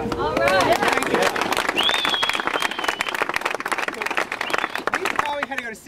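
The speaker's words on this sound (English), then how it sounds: "deserve a huge round of applause for the work that they've done" A crowd at the opening of a bike path claps and cheers, dense applause running the whole stretch, close and lively, with whistles and voices mixed in.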